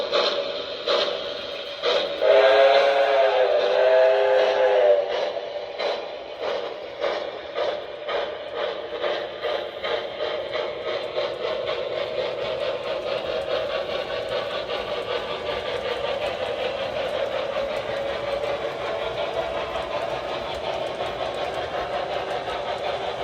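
A 3rd Rail High Iron K4 model steam locomotive, #1361, runs around a model railroad layout with a steady mechanical whir and faint rhythmic clicking, opening with a brief louder tonal whistle-like burst before settling into a continuous hum.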